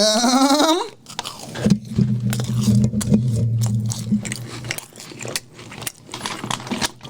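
Crunchy bites and wet chewing of fried chicken dakbokki come close and intermittent after a brief musical jingle, with soft scraping sounds between the bites.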